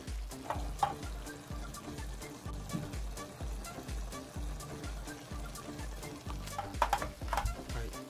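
Oyster-sauce yakisoba noodles stir-fried in a frying pan, a steady close sizzle with repeated scraping and tossing strokes, louder bursts near the end as the remaining liquid cooks off.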